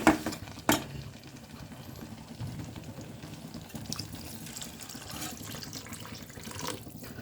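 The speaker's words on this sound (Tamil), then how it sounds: "இப்போ நம்ம தேவையான தண்ணி ஊற்றிக்கலாம்" A couple of sharp clanks, then water pours steadily into a cooking pot for several seconds, close up and with no one speaking.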